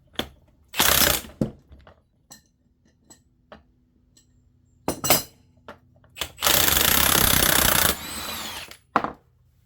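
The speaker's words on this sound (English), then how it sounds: "I'm going to be using an 1 1/8" here at the front while I'm holding with a big crescent wrench in the back." Impact wrench or power tool bursts loosening a nut on a cracked NP241J transfer case from a 2006 Jeep LJ Rubicon: several short loud whirring bursts and one long sustained run, with clicks and quiet gaps between, no talking.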